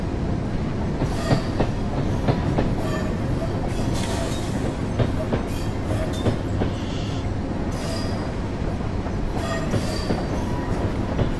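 A Class 31 locomotive runs on the Stoke Ferry Branch in Train Simulator 2016, a steady rumbling drone with rhythmic clicks of wheels over rail joints and occasional metallic squeals throughout.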